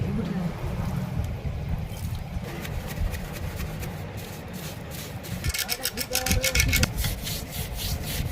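A brush scrubs a kerosene-soaked Bajaj Platina motorcycle silencer in steady rasping strokes that grow louder and quicker toward the end, close up and continuous.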